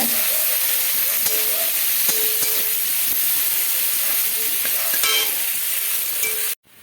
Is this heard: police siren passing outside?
no